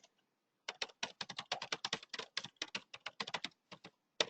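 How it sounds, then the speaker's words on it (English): Rapid typing on a computer keyboard during a live webinar: close, crisp key clicks in quick irregular runs, starting after a short quiet moment and continuing with brief pauses, no voices. "Let me just type that very quickly."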